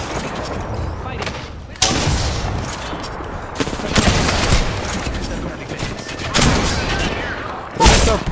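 Apex Legends firefight with repeated loud bursts of gunshots and heavy impacts at irregular intervals, a steady rumble of battle noise between them and voices talking faintly underneath.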